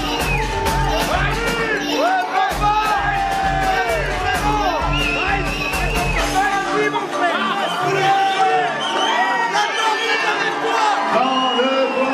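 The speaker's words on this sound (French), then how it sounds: "On applaudit également son adversaire." Boxing crowd at a DN Challenge bout cheering and applauding the losing fighter, a dense, loud roar of whoops and shouts with clapping, continuous and close, while an announcer talks over it.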